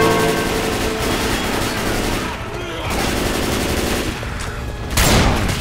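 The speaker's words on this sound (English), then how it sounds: "Watch where you're shooting!" Rapid, sustained automatic gunfire rattles through a firefight in the video game Left 4 Dead 2, loud and continuous with overlapping bursts and a sharp blast near the end, while a voice calls out over it.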